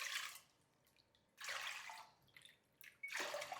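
Water is poured into a thick-bottomed pot on a gas stove, measured out as four and a half cups in three separate splashing bursts with quiet pauses between them.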